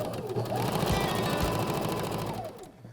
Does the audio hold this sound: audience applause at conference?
no